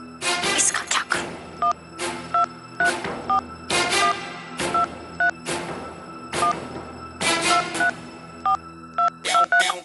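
Telephone keypad dialing tones from a phone with many buttons, a rapid run of short beeps in uneven bursts with brief pauses, heard close and clear over a faint background hum.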